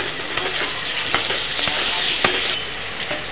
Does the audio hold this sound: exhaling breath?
no